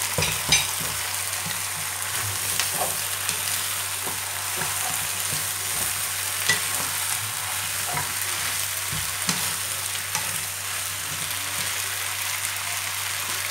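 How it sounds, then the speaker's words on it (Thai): Wide rice noodles, chicken and vegetables stir-fried in a pan for pad see ew, a steady close sizzle broken by repeated scraping and tossing of a spatula, with no talking. "เดี๋ยวเรามาผัดเขาให้สุกนะคะ"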